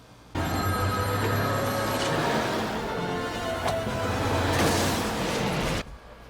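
A telephone rings steadily and loudly for several seconds, a continuous electronic bell tone that stops abruptly, with no voices over it.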